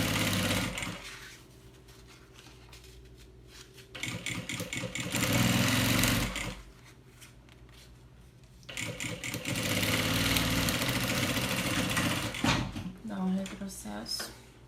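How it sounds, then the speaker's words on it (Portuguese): A sewing machine runs in several bursts of rapid, buzzing stitching while sewing a seam on a small thermal bag, with quieter pauses between runs and a voice speaking during the clip. "Então, eu vou vir passar a costura aqui."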